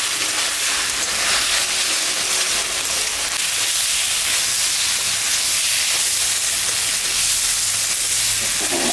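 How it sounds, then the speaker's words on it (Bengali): Spice paste frying in a pan for a fish curry gives a steady, close sizzle and hiss that runs unbroken for the whole stretch, with no voices over it. "মশলাটা ভাজা হয়ে গেছে"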